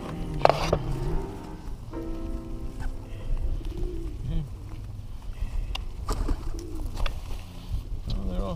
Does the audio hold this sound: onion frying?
no